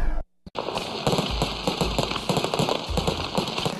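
Firecrackers and fireworks crackle in rapid, dense bursts at a new factory opening in Dalian, China, a loud, continuous popping that starts after a brief cut of silence and carries on without talk.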